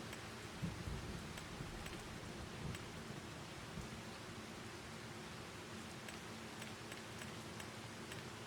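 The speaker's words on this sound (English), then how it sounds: "There really isn't anything good for when it's raining." Rain falls in the Farming Simulator 25 game as a faint, steady, even hiss of drops that never lets up, with no other sounds standing out.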